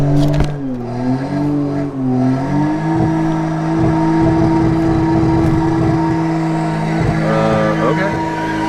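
Volkswagen Mark II fitted with a 1.8T engine from a Mark IV GTI, running for the first time after a long project, holds a steady, loud idle with some revving throughout, while people talk over it.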